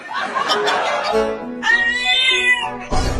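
A small kitten, just rescued, gives a few short, loud meows close by, with some laughter-like vocal sounds mixed in.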